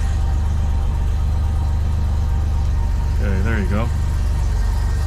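A Euro 1979 BMW 635CSi with a 5-speed warms up at a steady, rumbling idle, loud and close, while someone speaks briefly over the engine.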